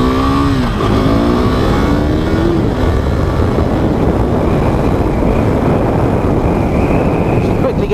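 KTM RC390, a small-engine motorcycle, accelerating along a road, its engine note climbing through gear changes in the first few seconds, then settling into a steady, loud drone with heavy road and wind noise.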